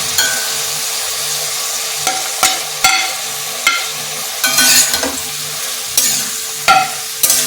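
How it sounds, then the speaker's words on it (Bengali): Onions fry in a pan with salt, green chili and tomato added for a Bengali chicken kosha, a loud continuous sizzle broken by several sharp spatula scrapes and knocks against the pan. "এবার আমি এই পেঁয়াজের মধ্যে একটু নুন দিয়ে দিচ্ছি, আর কাঁচা লঙ্কা, টমেটোটাও দিয়ে দিচ্ছি এর মধ্যে।"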